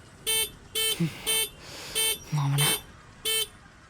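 Car horn honking in repeated short blasts, six bright beeps in an uneven rhythm, close and loud, with a brief voice-like sound between them.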